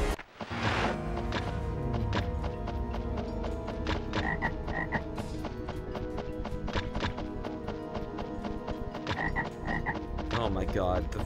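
Frogs croak over and over in the Altered Beast video game, their calls steady and loud across a busy, layered soundtrack of repeated percussive hits, with no talking.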